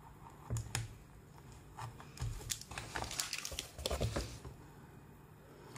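A craft cutter slicing through an embroidered cloth journal cover over a protective surface, irregular close scraping and crunching strokes in short bursts.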